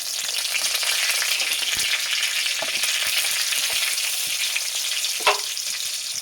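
Green and red chillies with a bay leaf sizzle steadily in hot oil, a loud, dense crackle running throughout with a few sharper pops, no voices over it.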